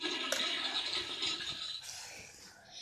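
A toilet flushes during a toilet challenge game, a steady rushing of water that holds for a couple of seconds and then drops off, close by and moderately quiet.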